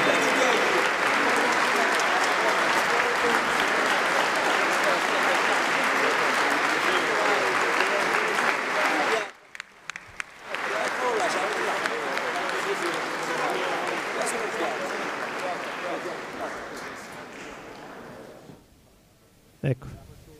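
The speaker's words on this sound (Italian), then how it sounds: "rivolgiamo un calorosissimo applauso a questi campioni" An audience applauds champions at an official ceremony at Palazzo Chigi: loud, sustained applause that breaks off briefly, resumes, then thins out toward the end.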